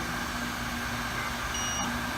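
A brake rotor lathe switched on and spinning gives off a steady, even motor hum with a faint whine, broken by a single short electronic beep near the end.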